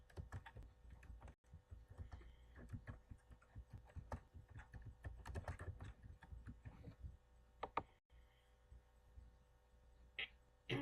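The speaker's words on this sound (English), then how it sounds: "So now we're typing who should have been Bella." Rapid keyboard typing, quiet and close, with irregular bursts of key clicks and a few brief pauses.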